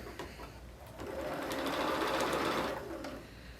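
A sewing machine runs steadily at moderate speed, stitching a quilt seam with a quarter-inch allowance, its rapid mechanical whir swelling in the middle and easing toward the end, close and clear with no speech.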